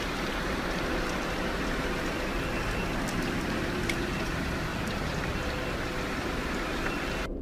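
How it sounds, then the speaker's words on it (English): Rain falling steadily outside a home in Arlington, Virginia, a continuous close hiss of drops with a few faint taps, ending abruptly. "he decides to take a random video of the rain"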